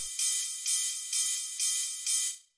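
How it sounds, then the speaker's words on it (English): Ride cymbal from a banging techno track, five evenly spaced bright, hissy hits with shifting velocity, each washing into the next, isolated with no low end and fading out at the end. "the last layer of hi-hats, or I guess you could call it the cymbals that we have here, is this ride"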